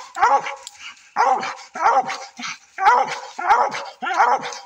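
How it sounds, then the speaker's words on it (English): A hunting dog barks in repeated, evenly spaced bursts at an animal up a tree, loud and close, with a few whining yips between barks and no talking. "Good dog."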